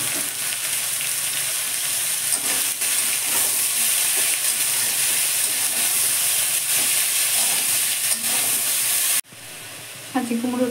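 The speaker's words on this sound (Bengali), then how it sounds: "ছাঁচি কুমড়োটা ভেজে নিয়েছি।" Ash gourd (chhanchi kumro) frying in a pan for a Bengali shrimp curry, a loud, steady sizzle and hiss running unbroken for about nine seconds before cutting off abruptly, with a brief clatter at the end.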